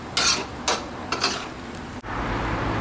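Squid stir-fried with salted egg and spring onion scooped from a pan onto a serving plate: a few scraping, clattering utensil strokes against metal in quick succession over a steady kitchen background.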